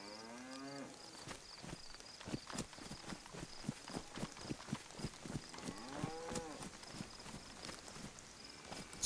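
Cows mooing in the DayZ video game on the Livonia map: one moo opens the clip and another sounds near the end, over a steady, rhythmic clop of footsteps.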